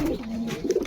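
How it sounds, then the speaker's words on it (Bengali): Pigeons cooing on a rooftop loft, soft low throaty coos rising and falling in a steady murmur, close by and fairly quiet, with no talk. "তো এখন কবুতরগুলো সব বাইরে থেকে ভিতরে চলে আসছে"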